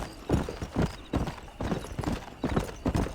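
A horse's hooves clip-clop in Red Dead Redemption, a steady walking rhythm of paired hoof strikes repeating evenly, close and fairly soft, with no talk over it.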